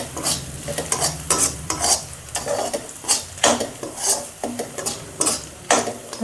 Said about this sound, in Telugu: ఇలా కొంచెం లైట్గా ఫ్రై అవ్వాలి.